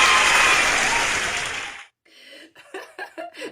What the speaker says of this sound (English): Where's my clap? Where's my cheer?